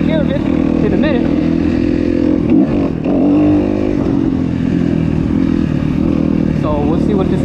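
Kawasaki KX250F and Yamaha YZ250F dirt bikes ridden on a brushy trail at Omo Ranch, a loud close engine drone throughout with rising and falling revs, scraping and clatter, and a rider talking over it.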